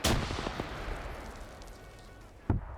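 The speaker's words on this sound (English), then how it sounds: "I can't tell if the BMP is friendly firing" Gunfire from a BMP armored vehicle in a first-person shooter game, a sharp loud report at the start with a long fading echo, a few quieter shots, then another close blast near the end, with no talk.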